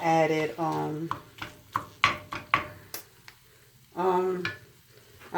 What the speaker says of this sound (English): So I'm going to let this cook until the sausages are done.